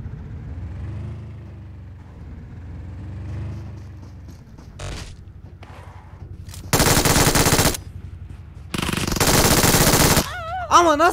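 Automatic gunfire in PUBG Mobile, two long, loud sustained bursts of rapid shots following quieter scattered sounds and a low engine-like hum, with a short electronic warble at the end.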